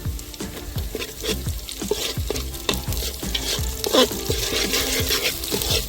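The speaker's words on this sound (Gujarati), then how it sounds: "પહેલા આપણે જો તેલ ગરમ કરી અને આ ડુંગળી અંદર નાખી દીધી છે." Onion and chillies fry in hot oil outdoors in a farm field, a steady loud sizzle broken by regular scraping strokes of a spoon stirring the pan, with no talking.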